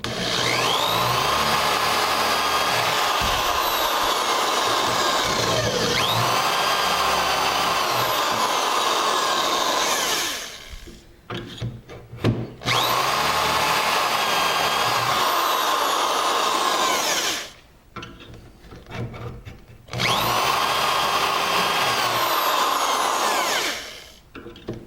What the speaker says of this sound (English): and then we use the shorter drill to drill